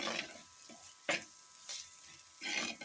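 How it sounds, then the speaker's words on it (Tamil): Ginger garlic paste sautéing in a pan for a home-style mutton curry, heard as intermittent spoon scrapes and stirring bursts over a faint, soft sizzle. "இஞ்சி பூண்டு பேஸ்ட்டு நல்லா வதங்கிடுச்சு"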